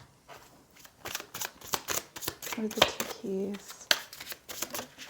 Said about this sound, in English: I was supposed to shuffle over the thing